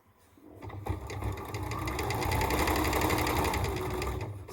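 A sewing machine stitches pieced fabric squares for quilt nine-patch blocks, running in one steady, continuous burst that starts quietly and swells to a loud, even whir with no talking.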